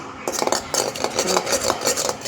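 A metal utensil scrapes and stirs briskly inside a kadai, with repeated clattering strokes at close range and no talk.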